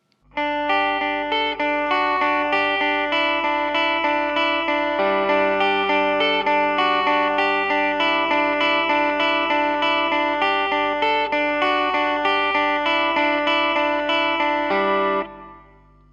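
A distorted electric guitar riff with chorus and effects, played three times with sustained chords and a clean ending.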